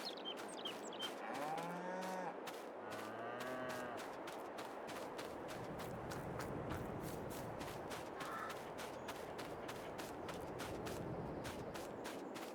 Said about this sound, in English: That's cows.